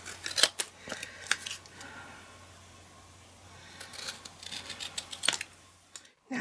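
Small scissors fussy cut around paper letters for a Christmas place-name card, giving close, crisp snips in scattered bursts with a quieter stretch in the middle before a final flurry of cuts.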